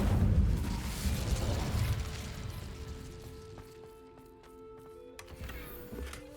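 An Incendio fire spell in Hogwarts Legacy bursts out with a loud, roaring whoosh that fades over a few seconds, leaving quieter mechanical clicks and tonal game sounds.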